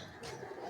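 A brief, faint murmur of pigeon cooing from a loft, heard alone with no talking.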